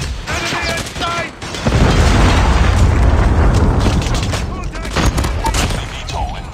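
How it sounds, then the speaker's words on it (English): A predator missile strike in a military shooter video game: a heavy, loud blast rolls into a sustained rumbling roar after a brief stretch of talk and game callouts. "Predator missile inbound."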